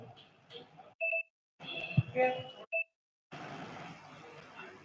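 A mobile phone gives short, sharp electronic beeps, a few quick tones separated by gaps and quiet background noise, fairly faint.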